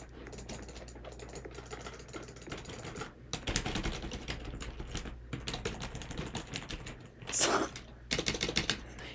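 Someone types on a worn-out computer keyboard, quick irregular clusters of key clicks with short pauses and one louder burst near the end, close and fairly quiet.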